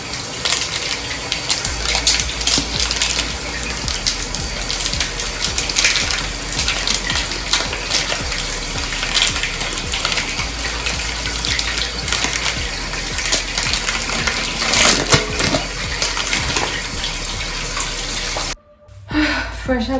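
A shower running steadily, a dense hiss of falling water that fills the room for most of the clip and then cuts off abruptly near the end.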